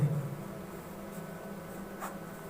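An equation being written out by hand during a maths lesson, a faint, sparse scratch of pen or chalk strokes over a quiet room hum, with no one speaking.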